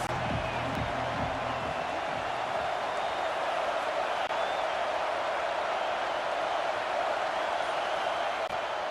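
A stadium crowd roars steadily for the defense on a big third down late in a Duke at Florida college football game, a dense, continuous wall of cheering that holds at a constant loud level throughout.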